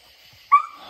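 Coonhounds on a raccoon hunt give one sharp, excited yelp or bark near the end of a short, otherwise quiet stretch.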